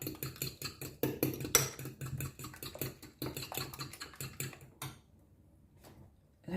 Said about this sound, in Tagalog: Mix ko na yung egg sa spinach.